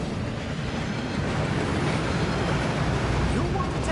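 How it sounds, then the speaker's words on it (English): A waterfall in magical bank vaults in a video game rushes as a loud, steady broadband roar filling the whole clip without pause, with talk faintly beneath it. "That waterfall washes away all enchantments."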